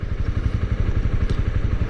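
Honda CB250R single-cylinder motorcycle engine running, a steady pulsing low thump with a mechanical clatter on top, close and fairly loud with no talk over it.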